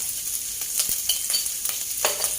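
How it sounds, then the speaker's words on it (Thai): Dried chilies stir-fried in a pan give off a soft, even sizzle, with a handful of quick spatula scrapes and light knocks against the pan close by, and no talking. "ใส่พริกแห้งลงไปผัดค่ะ"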